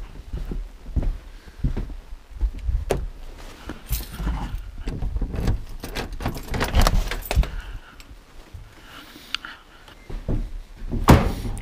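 Keys jangle in bursts of bright metallic clinks, mixed with door thumps and handling knocks at a rural winter cabin, close to the microphone, with no talk.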